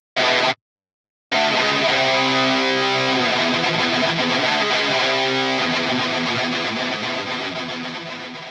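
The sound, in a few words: Helix distortion rhythm guitar tone, DeepSeek preset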